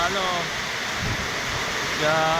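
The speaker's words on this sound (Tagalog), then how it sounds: "Napakalakas ng ulan." Heavy rain pours steadily in a rural yard where goats are kept, a dense constant hiss and patter with someone talking over it.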